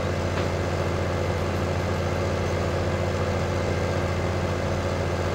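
A tractor climbs with its diesel engine running, a loud, steady, low rumbling drone with a constant throb and no letup.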